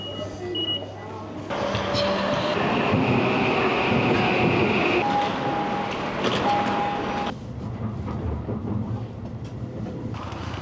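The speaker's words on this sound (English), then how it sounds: "But I'll be taking the metro" Metro train ride in Japan: a loud, steady rumble of carriage and track noise fills the clip, with a brief high electronic tone partway through and indistinct voices in the background.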